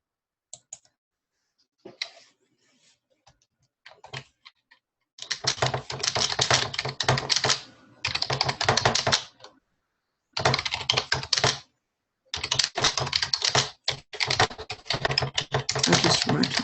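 Rapid clicking of computer keyboard keys as questions are typed during an online training webinar, starting with sparse taps then settling into dense bursts separated by short pauses, close and fairly loud, no talking.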